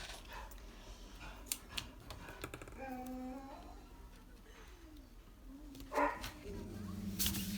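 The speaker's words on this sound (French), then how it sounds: "mon chien aboie" Indoors, a dog gives a few short barks and yips in the background, mixed with light tapping and handling noises of paper crafting, while a person talks nearby.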